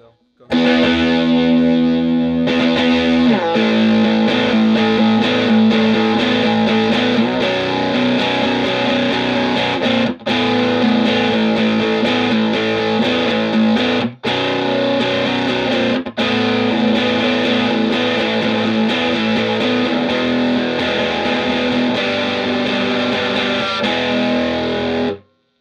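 Heavily overdriven Gretsch G6119T Tennessee Rose electric guitar through a high-gain overdrive pedal plays continuously for a long stretch, thick and distorted, with a few brief pauses between riffs.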